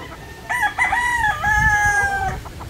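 A gamefowl rooster of the Boston Black or Sweater breed crows once in a long drawn-out call, close and fairly loud over low outdoor rumble at a farm meet-up in Bulacan.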